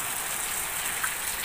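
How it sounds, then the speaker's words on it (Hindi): Heavy rain pouring down in a Himachal village, a steady dense hiss of falling water, fairly soft and even throughout. "और देखिए कितनी बारिश हो रही है"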